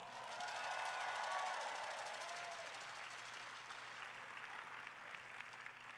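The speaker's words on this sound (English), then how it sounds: "Give yourselves a big round of applause." A large crowd at a motivational business convention claps and cheers in a thick, continuous roar that swells early, then settles into sustained applause, heard from within the hall with whistling and shouts mixed in.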